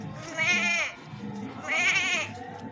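A man imitates a goat with his voice, producing two drawn-out, wavering bleats separated by a short pause, close and fairly loud over a low background murmur.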